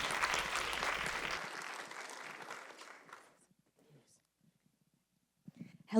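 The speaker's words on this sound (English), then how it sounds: "So round of applause for Shakita Thompson" Applause from an audience at a Black Youth Can mixer closing an Emancipation Month event, loud and dense at first, then thinning out and fading to near silence after about three seconds, with a few faint sounds and a brief noise at the end.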